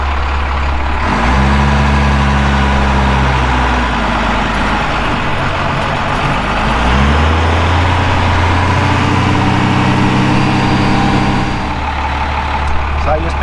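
Cummins diesel engine of a tow truck used for desert vehicle recovery, idling loud and close in a steady low rumble whose pitch shifts slightly as it runs, with no voices.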